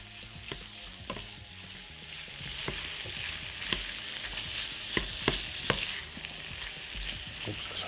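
Peppers fry in a small pan with a steady sizzle, broken by repeated sharp clinks and scrapes of a utensil stirring, close and moderately loud, with no voices.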